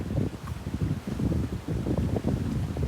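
Gusty wind buffets the microphone on a beach after Hurricane Idalia, a loud, rough low rumble that surges and dips in uneven pulses, with no voices.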